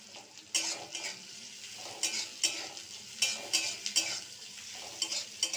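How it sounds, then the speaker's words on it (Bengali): Chopped onion sizzles in a hot pan on a gas stove while a utensil stirs it, scraping and clinking against the metal in irregular strokes over a steady background frying hiss, close and alone. "পেঁয়াজটাকে এইভাবে নেড়ে চেড়ে"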